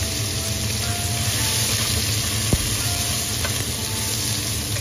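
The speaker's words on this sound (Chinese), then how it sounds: "锅中留点底油，将苦瓜放入进去炒几下" Bitter melon stir-fried in a thin layer of oil in a wok gives a steady, loud sizzle with a faint scrape of stirring, continuous and unbroken, with no voices.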